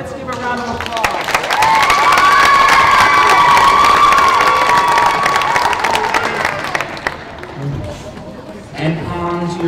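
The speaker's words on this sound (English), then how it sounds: "Let's give a round of applause." A loud crowd of elementary school children cheers and claps for several seconds at an awards ceremony, then the noise fades into scattered chatter.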